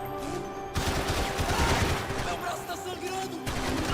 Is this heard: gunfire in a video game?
yes